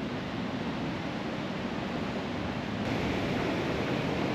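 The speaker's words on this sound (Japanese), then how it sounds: "ダムの放流されてるこの、ジャーっていうこの水の音が、結構大きな音でね" Water rushing from a spillway release at Aono Dam at night, a steady broad roar heard from some distance, slightly louder toward the end.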